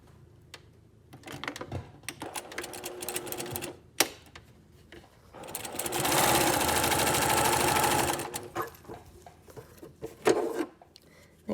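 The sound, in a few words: sewing machine stitching two layers of fabric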